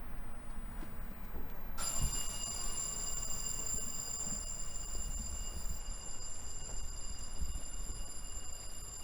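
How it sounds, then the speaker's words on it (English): Warning bell at a trolley museum substation starts about two seconds in and rings continuously, a steady bright metallic ring close by over low background rumble. "When I press this, you're going to hear the bell go off"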